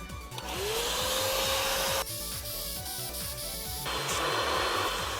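An Iris Ohyama RNS-P10-W rinser cleaner with its head attachment suctions dirt out of fabric, a loud steady whirring draw with scraping strokes as the nozzle is pushed back and forth, briefly changing pitch midway.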